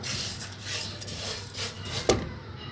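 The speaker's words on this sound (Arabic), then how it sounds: "نقلب بقى كده بالراحه" Rice stirred gently in a cooking pot with a little oil, giving a soft, steady scraping and rubbing close by, with one sharper clink near the end and no voices.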